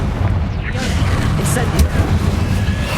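Confringo blast spell exploding in Hogwarts Legacy, a dense booming burst with rumbling low end and crackling debris over continuous battle noise, with a spoken voice in the mix.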